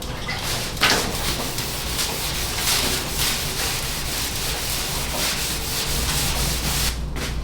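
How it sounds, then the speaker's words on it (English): Wet sanding a car deck lid by hand with 500 grit sandpaper, a continuous close scrubbing rasp with repeated back-and-forth strokes and no speech. "It's probably gonna take me at least 30 minutes to an hour just to sand this with the 500 grit."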